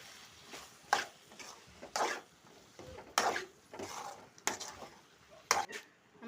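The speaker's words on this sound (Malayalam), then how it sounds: "കരിയാപ്പില ഇട്ടിട്ട് നമുക്ക് നന്നായിട്ട് ഇളക്കി കൊടുക്കാം" Beef being stirred with curry leaves in a pan for Kerala-style beef peralan, heard as a series of spaced scraping strokes of the spoon, about one a second, over a quiet background with only a faint sizzle.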